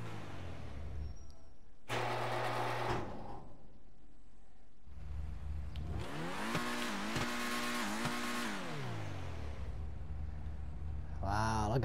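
Pegassi Torero supercar in GTA V driving, its engine revving up and down in loud sweeping bursts with gear-shift dips, after a brief earlier rev, with a voice talking over parts of it.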